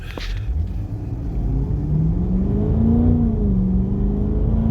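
A 2023 Cadillac CT5-V Blackwing's muffled exhaust drone, with the Corsa bi-mode exhaust valves closed, heard from inside with windows up, rising steadily in pitch as the car accelerates moderately, smooth and continuous.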